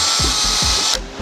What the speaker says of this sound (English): get underneath the car, drill everything out at once